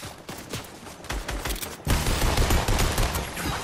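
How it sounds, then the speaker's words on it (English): Rapid bursts of gunfire in the video game Fortnite, dense crackling shots that grow louder and heavier midway, with no voices. "Somebody shooting off from the right."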